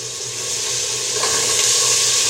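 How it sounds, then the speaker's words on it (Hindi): Water splashed into a hot cooking pan of sliced common onions and the white bases of green onions, for a vegetable pickle, sets off a steady, close broadband sizzle that holds at an even loudness throughout. "ये मैंने थोड़ा सा पानी डाला"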